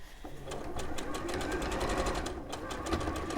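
A sewing machine stitches a jersey fabric skirt in a fast, steady mechanical run of close, rapid needle clatter that lasts the whole stretch, with no voices.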